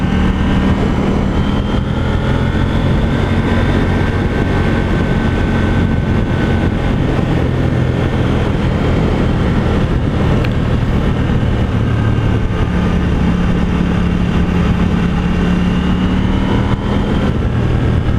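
A KTM 790 Duke motorcycle engine under way in sport mode, a steady, loud, continuous drone with shifting pitch as the throttle rolls on and revs climb, accompanied by wind roar, with no talking.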